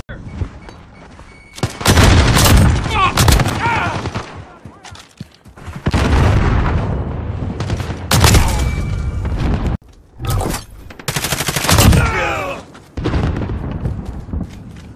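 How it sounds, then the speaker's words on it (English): Precision airstrike explosions and gunfire in Call of Duty Modern Warfare: loud, dense bursts of booming blasts and rattling shots that come in several heavy waves with short lulls between them, while voices are heard at moments. "Precision airstrike."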